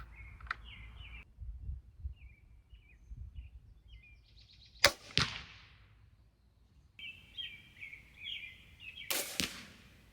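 A Killer Instinct TemprX crossbow fires twice outdoors, each shot a sharp, loud snap with a quick ringing decay, spaced a few seconds apart, while birds chirp faintly in the background.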